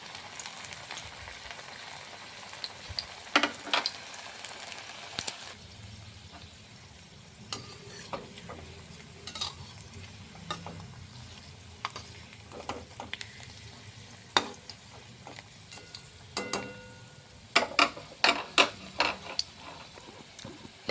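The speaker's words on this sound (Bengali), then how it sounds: "দুটো তিনটি করে বেজে নেব, ভাজাগুলি খুব সুন্দর হবে।" Evening snacks frying in hot oil, a few pieces at a time, give a steady soft sizzle with scattered sharp clinks and scrapes of stirring, close by and without talk.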